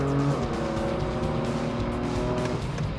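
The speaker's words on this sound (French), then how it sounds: "On est sur l'accélérateur, ça en veut toujours." BMW M4 GTS engine pulling hard under full throttle, a loud, continuous, rising engine roar heard close from on board, with the harmonic tones shifting as it accelerates.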